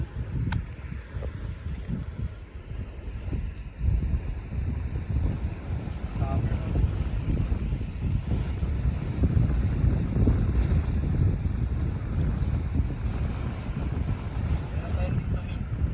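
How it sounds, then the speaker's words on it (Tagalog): A steady low motorboat engine drone rumbles beneath strong wind buffeting the microphone, with faint voices now and then, out at sea off Puerto Princesa, Palawan. "Motor sa dagat."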